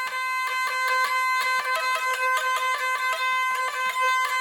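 A hurdy-gurdy drones with bright, buzzing harmonics while its melody notes are clipped short by quick flicks of the key, giving a steady, choppy rhythm. It plays loud and alone.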